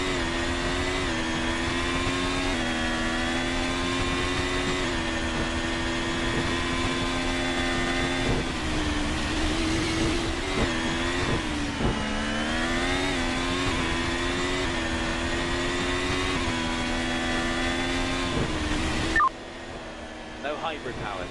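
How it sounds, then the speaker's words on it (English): Formula 1 car engine from a racing video game, a steady high-pitched whine that rises and falls with throttle changes through a lap, loud and continuous before cutting out near the end. "just listen to how the car handles and how, Charles Leclerc works with the throttle"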